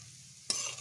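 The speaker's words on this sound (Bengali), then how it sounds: "এইভাবে আমি এগুলোকে লাল লাল করে ভেজে নিচ্ছি।" Jackfruit pieces dropped into hot oil in a pan, quiet at first and then a sudden loud sizzle bursting up and continuing to the end.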